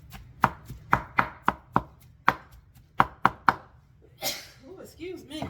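Knife chopping through an Italian sandwich on a cutting board, a steady run of about a dozen crisp, close knocks, followed by rustling and a voice speaking.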